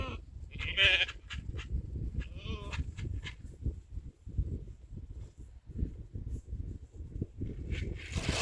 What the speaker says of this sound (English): we'll go then and we'll check out the sheep